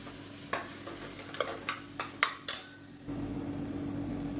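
Blended tomato is stirred into hot oil for a radish kuzhambu, first a series of sharp spoon clinks and scrapes against the pan, then a steady, low sizzle settling in.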